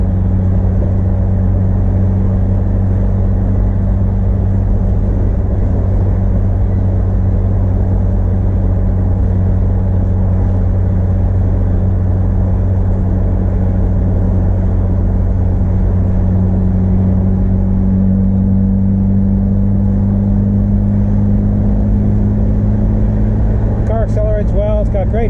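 A 1979 Fiat Spider with a carbureted 2-liter engine pulls uphill toward Mount Baldy in Southern California heat, its engine droning as a low, steady in-cabin hum that rises slightly in pitch, with a voice talking over it.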